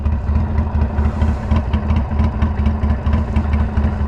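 A Harley-Davidson Sportster idles through a Two Brothers Racing Comp-S 2-into-1 exhaust, a deep, lumpy, pulsing rumble heard up close, steady and unbroken with no talk.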